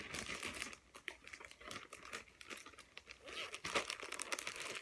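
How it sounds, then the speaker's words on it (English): A plastic package holding a Little Mermaid needle minder crinkles close up in a steady run of rustling and crackling, with no talk. "Crinkle, crinkle,"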